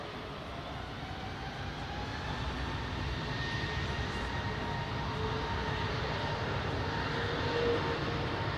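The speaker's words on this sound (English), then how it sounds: "a lot of the aircraft that are landing are going to be landing into a tailwind." A steady, broad jet roar from an aircraft landing at an airport in a tailwind, heard at a distance with no voices.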